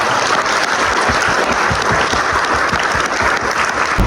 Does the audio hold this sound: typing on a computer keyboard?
no